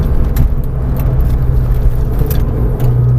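A Porsche 911 accelerates on the Marcoussis race track, a loud close engine note with a steady low drone and a rising tone near the end, heard from inside the car.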